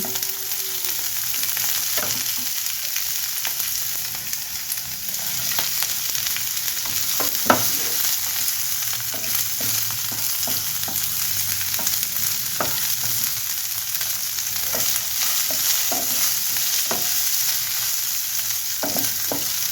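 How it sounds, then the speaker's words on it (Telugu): Onions, green chillies and curry leaves fry in oil for a ridge gourd and carrot curry, giving a steady close sizzle broken by frequent light clicks of stirring, with no talk. "ఉల్లిపాయలు వేగాలండి."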